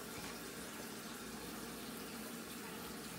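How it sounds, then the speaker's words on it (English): Water runs steadily from a kitchen tap while Spam musubi is being made, a continuous broadband hiss that stays even and close throughout with no talk over it. "Go ahead and get my water back on."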